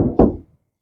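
A single dull knock on an Opel Mokka hood, close and short, fading quickly into silence.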